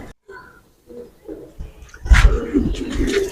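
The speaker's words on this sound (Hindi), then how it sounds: "ये कबूतर है" A pet pigeon coos in a loft, soft low throaty calls that start sparse and quiet, then grow louder and busier with some rustling close by.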